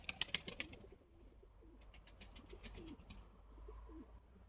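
Pigeons cooing outdoors in repeated soft bursts, with bright chirps and a few wing-like flutters over low background rumble.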